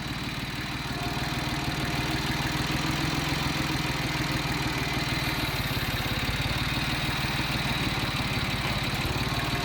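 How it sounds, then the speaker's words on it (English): A tractor engine runs in a steady close chug with a knocking, even rhythm, loud and continuous throughout while a pig pen is being moved on the farm. "Get the tractor in gear here."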